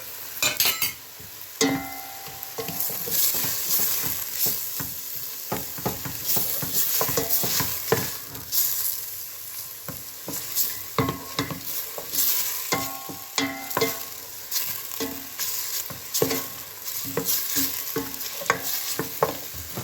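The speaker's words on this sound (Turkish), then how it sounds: "Böyle salçaları kavurdum." Tomato and pepper paste sautéed in a pan for Malatya-style chicken meatball stew: a close, steady sizzle broken by repeated scraping stirs of a utensil against the pan, with no voices.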